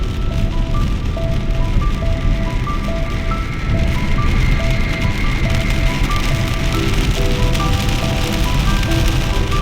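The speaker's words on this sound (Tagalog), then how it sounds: "grabe naman tong lakas ng ulan" Heavy rain pours in a dense, steady hiss throughout, while a tinkling jingle-like melody plays over the downpour.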